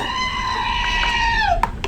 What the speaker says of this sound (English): Angry goat.